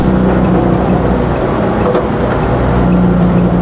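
Chevrolet Camaro driving, a steady loud engine and road rumble heard from inside the car, with no talking.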